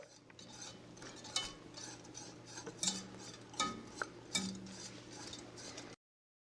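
A utensil stirs caramel for caramel popcorn in a pot. It scrapes and clinks against the metal in irregular close knocks, over a low steady hum.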